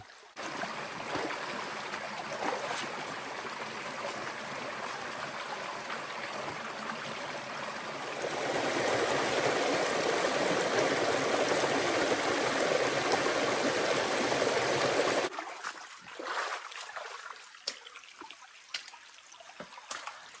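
A forest stream flows steadily in the deep woods, a broad constant wash of water that grows louder midway, then cuts off to a quieter backdrop with scattered faint noises near the end.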